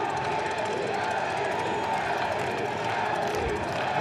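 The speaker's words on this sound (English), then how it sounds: "They're chanting Maggi." A big baseball stadium crowd roars and chants for player Drew Maggi at his MLB debut, a dense, sustained wall of voices echoing around the ballpark.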